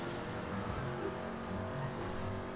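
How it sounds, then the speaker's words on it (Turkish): A modified car in GTA 5 drives fast, with a steady engine drone and shifting revs heard continuously and fairly close, with no talk over it. "Şimdi araba daha hızlı gidecek bakın."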